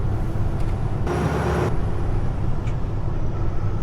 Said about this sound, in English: I'm being overtaken by the banana truck